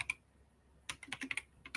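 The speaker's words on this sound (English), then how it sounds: "manually typing things" Quick bursts of keystrokes on a computer keyboard, a single tap followed by a pause and then a rapid run of clicks, close and fairly quiet with no talking.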